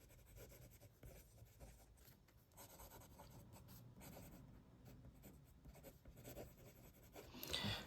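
A Jinhao 59 fountain pen with carbon black ink writes on paper, making a faint, close scratchy rub of nib strokes that continues throughout in an uneven rhythm.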